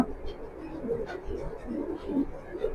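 Racing pigeons coo in soft, low, repeated murmurs, several throaty bursts close by, with someone talking over them.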